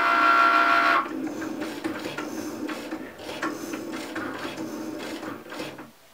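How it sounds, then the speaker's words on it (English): A Cricut cutting machine drives its knife blade through a wooden sheet, giving a steady mechanical whir and irregular ticking and clicking at close range, with no talking. "my knife blade has finished cutting, so I'm gonna take this out of the machine"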